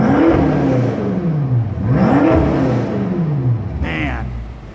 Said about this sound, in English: So we'll have Trish do a little bit of rev time down here.